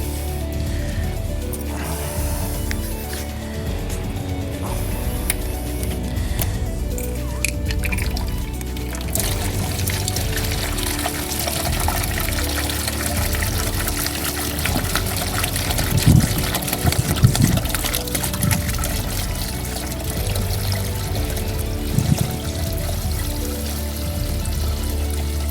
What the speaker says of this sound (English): Then we fill our container up with vinegar.